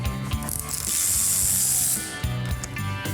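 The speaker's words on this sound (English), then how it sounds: "that's where you run your socket through to take the 5 nuts off that hold the axle in place" Socket wrench ratcheting on the axle nuts of a 1971 Cuda convertible with a 340 and three-speed manual, loud close mechanical clicking in short bursts with a steady whirring stretch in the middle.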